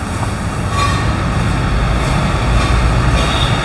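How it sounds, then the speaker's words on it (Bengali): A used Hyundai Sonata idles smoothly with a continuous, even low hum and faint broadband hiss, heard up close with no voices. "গাড়ি সাউন্ড স্মুথ সাউন্ড"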